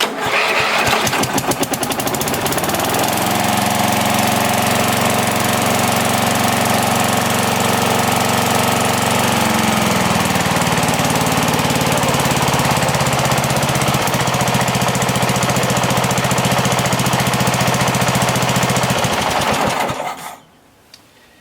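An engine cranks on JB-80 used as starting fluid, then catches and runs with a loud, rapid hammering chatter for about twenty seconds before cutting off abruptly.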